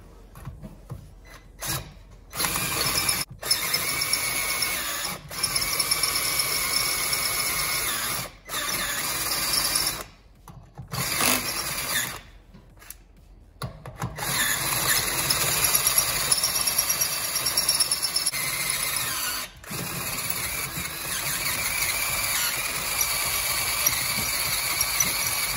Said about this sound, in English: Let's send her home with the drill bit.